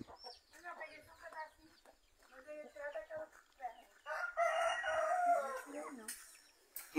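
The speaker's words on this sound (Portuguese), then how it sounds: "Muita galinha." Chickens cluck on a rural farm smallholding in Guajará-Mirim, Rondônia, with a rooster crowing midway and a faint voice talking in the background.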